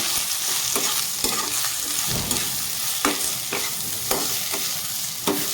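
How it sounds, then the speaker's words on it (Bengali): Bitter gourd (karela) frying on low flame in a pan while being stirred, a steady close sizzle broken by regular scraping strokes of the spatula about once a second, with no voices. "মেখে রাখা করলাগুলো দিয়ে দিব দিয়ে একদম লো টু ফ্লেম করে নাড়ি চালে দেবো"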